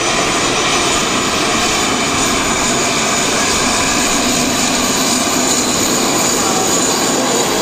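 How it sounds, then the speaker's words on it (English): Business jet taxiing close by at Luton airport, a steady loud engine whine and roar held throughout without pause. "beautiful jet."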